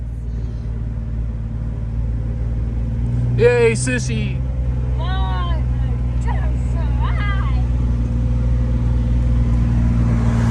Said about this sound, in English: Sissy's driving the Jeep all on her own.